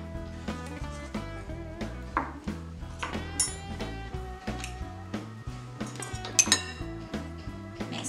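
Gluten-free Nutri-Free bread flour being mixed with salt in a bowl, with a spoon or utensil clinking and scraping against the bowl in irregular taps and scrapes, close and fairly quiet, with no talking.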